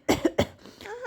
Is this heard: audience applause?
no